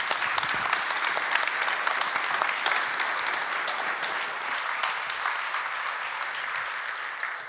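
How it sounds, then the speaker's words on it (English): Sustained, dense applause from a conference audience at Codegarden 2023 rolls on steadily and evenly, a crowd of many hands clapping together with no speech on top. "Give him a round of applause."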